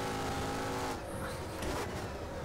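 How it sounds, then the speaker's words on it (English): A race car engine roars at full throttle in the rFactor racing game, a loud continuous drone that shifts in tone partway through. "full throttle, full throttle, full throttle"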